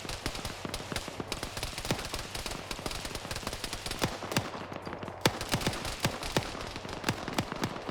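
Bursts of automatic gunfire rattle through a team-based military shooter match, rapid sharp cracks in irregular volleys with some shots nearer and louder, continuing densely throughout.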